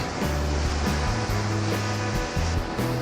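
Ocean waves break on a shore in a steady, loud wash of surf that fills the whole stretch without pause.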